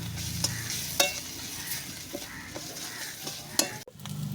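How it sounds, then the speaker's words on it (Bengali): Cumin powder and shankar fish skin fry in hot oil, a close, continuous sizzle broken by several sharp spoon scrapes and clinks against the pan, ending in a brief pause before the frying hiss resumes. "দিয়ে আমি আবার ভালো করে ভেজে নেব।"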